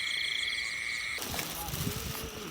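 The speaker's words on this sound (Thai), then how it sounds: "นี่พี่น้องตัวกบ" A frog croaks in a rice field at night, a rough throaty call rising over steady insect chirring and background hiss, with a sudden burst of broadband noise midway; no speech.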